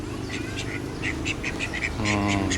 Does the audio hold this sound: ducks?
yes